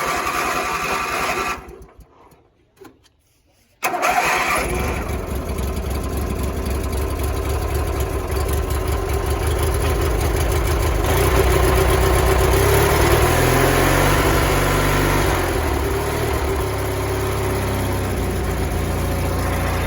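A car engine turns over after a short quiet gap, then settles into a steady idle, with a low, even rumble that carries on for the rest of the stretch at a moderate level, close by.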